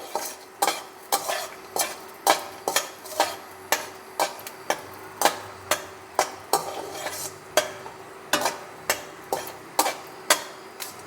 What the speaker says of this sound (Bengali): বাদামটা একটু ভালো করে ভেজে নিতে হবে।